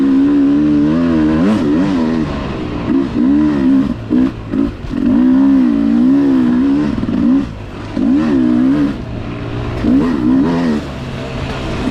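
A Beta 300RR two-stroke dirt bike rides a trail, its engine loud and close, revving and dropping repeatedly as the rider works the throttle throughout.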